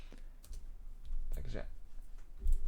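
Computer keyboard keys clicked in a short burst while entering a router NAT command, with a voice speaking over the typing.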